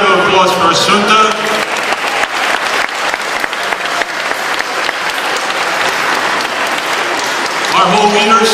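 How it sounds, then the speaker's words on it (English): Loud applause from a crowd, sustained clapping for several seconds, with a voice speaking briefly at the start and end. "So how about a big round of applause for Sunta?"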